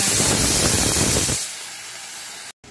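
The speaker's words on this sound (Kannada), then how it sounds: "ತೊಗರಿ ಬೇಳೆಯನ್ನು ನಾನು ಬೇಯಲಿಕ್ಕೆ ಇಟ್ಟಿದ್ದೇನೆ. ಇದರಲ್ಲಿ ಒಂದು 3 ವಿಸಿಲ್ ಆಗುವ ತನಕ ಅದನ್ನು ಬೇಯಿಸ್ಕೊಳ್ತೇನೆ." A pressure cooker cooking toor dal lets out a loud, steady steam hiss for about a second and a half, then drops to a quieter lingering rush that cuts off abruptly.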